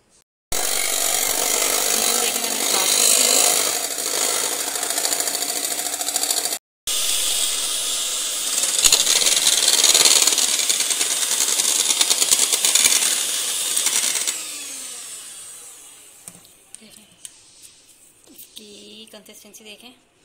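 An electric mixer beats chocolate cake batter with a loud, steady whir. It cuts out briefly, resumes, then winds down, leaving faint handling noise at the end.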